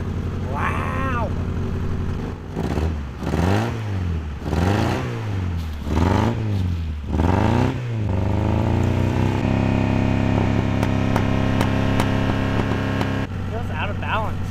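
A Honda Integra DB1 engine runs roughly with a misfire, revving up and down in repeated swells before settling into a steady, uneven idle, close by with people talking over it.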